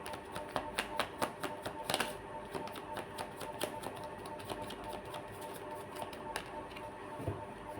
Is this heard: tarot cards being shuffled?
yes